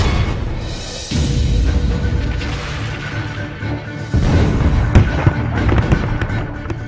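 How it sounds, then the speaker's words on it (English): Musket gunfire rings out in an Assassin's Creed III battle, with a dense run of sharp cracks and booms over a rumbling wash of combat noise, growing heavier and more clustered toward the end. "Being shot by a musket would be an awfully painful way to go."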